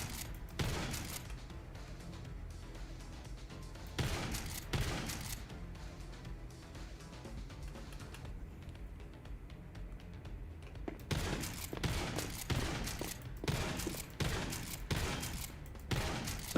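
A gun's magazine is fired empty in a video game, dense bursts of rapid shots in several long runs broken by brief pauses, loud and close with no talk.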